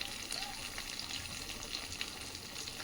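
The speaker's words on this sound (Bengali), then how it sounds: "এবার মাছগুলো একটু ভেজে নিই" Koi fish frying in hot oil, a steady dense sizzle and crackle that holds evenly throughout without pause.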